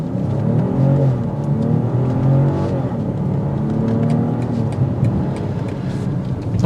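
A 2024 BMW X7 xDrive40i in sport mode accelerates with a steady, loud engine drone and rising hum heard from inside the cabin, continuous and without talk.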